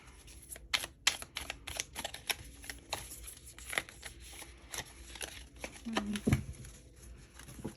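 Sticky tarot cards with a rose-petal finish are shuffled close up in a series of quick riffling, flicking bursts, with a few soft thumps near the end.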